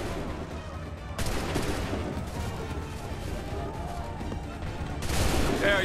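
Soldiers fire musket volleys in Assassin's Creed III: two crashing bursts of massed gunfire, the second near the end, over a constant din of battle with shouting voices.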